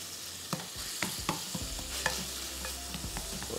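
Minced meat fries in a pan for samosas with a quiet steady sizzle, broken by regular scraping strokes of a spatula every half second or so.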